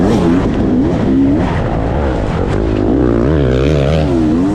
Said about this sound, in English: We heard a 4-stroke. Making some noise back there.